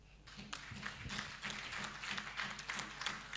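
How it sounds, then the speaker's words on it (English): Audience hand clapping at a malaria indicator survey report dissemination event, applauding the ED; quiet, somewhat distant, irregular claps with a low hum beneath. "Can we clap for the ED?"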